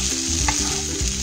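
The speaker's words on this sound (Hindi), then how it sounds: "फिर हम इसको अच्छे से मिक्स कर लेंगे। ये देखिए इस तरीके से मिक्स कर लेंगे" Sabudana khichdi stirred and mixed in a hot pan, a short burst of spoon scraping over a steady sizzle and a low background hum.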